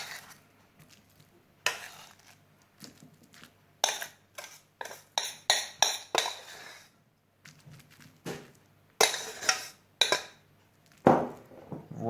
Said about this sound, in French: On retire le couvercle et on va le mettre dans une assiette pour qu'il refroidisse bien maintenant.